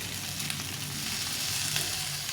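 Spice masala frying for aloo dum with ground tomato being added, a steady close sizzle and crackle of oil filling the clip with faint stirring, no voices.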